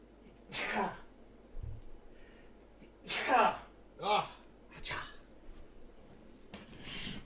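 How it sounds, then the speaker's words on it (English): A sneeze bursts out near the start, followed by a few more sharp, breathy sneeze-like bursts and sniffs spread over several seconds in a quiet room. "now that I don't have to sneeze anymore"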